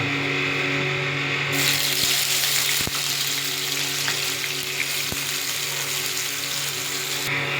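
Onions tossed into hot oil with fried potato, pointed gourd and eggplant sizzle loudly and continuously at close range, broken by a few sharp knocks of a spatula against the pan, with no talking.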